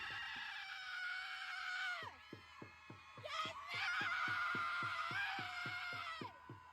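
A person screams in long, high, strained bursts, with rapid rhythmic pulsing beneath the cries, moderately loud and close.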